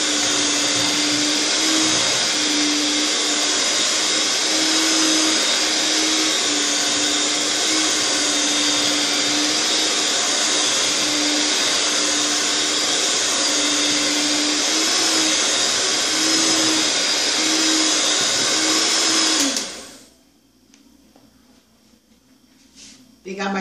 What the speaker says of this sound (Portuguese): batedeira é bem mais rápido